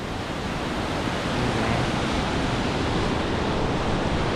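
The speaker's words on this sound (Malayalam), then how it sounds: "എന്തായാലും നല്ല കിടിലൻ നദി തന്നെയാണ്, ഒഴുകി പോണത്." Fast-flowing muddy Suru river near Kargil, a steady broadband rush of water that stays loud and unbroken throughout, with no voices over it.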